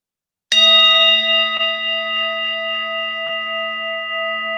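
A single strike on a gong, sharp onset then a long ringing metallic tone that slowly fades with steady overtones, loud and alone.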